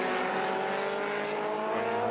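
The Elephant, a 1976 race car with a 1600cc engine, drives past at a retro speed event, its engine note steady, loud and close throughout.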